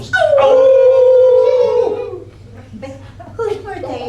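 A voice imitates a long wolf howl, rising then holding a wavering tone, followed by softer yips and laughter-like sounds.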